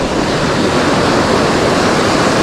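Ocean waves break on a Hawaii fishing shore in a loud, continuous surf wash, the rushing white water close by and mixed with wind buffeting the microphone.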